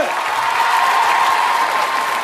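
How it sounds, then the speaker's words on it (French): Loud, dense studio-audience applause on a French television show, a continuous wash of clapping from a large crowd that holds steady throughout. "Faut les applaudir, mesdames, messieurs."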